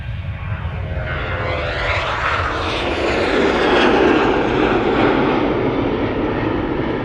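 An airliner departs Amsterdam Schiphol with a loud, sustained jet engine roar that builds gradually and holds steady throughout, with no voices.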